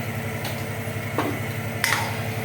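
Pot of peas and dal stirred while it boils, with soft scraping and clinking strokes of a spoon against the pot over a steady background hiss.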